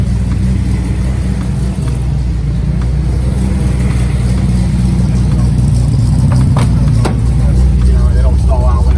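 An old Datsun car engine idles on a cold morning just after starting, a loud steady low rumble close by, with people talking over it.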